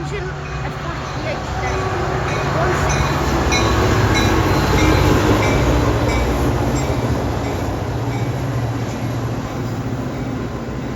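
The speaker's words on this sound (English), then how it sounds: "here comes an outbound Metra train with engine at 40" An outbound Metra commuter train arrives at Mount Prospect station in Illinois, its steady rumble and rolling wheel noise building loud and close, then holding. A person talks over it.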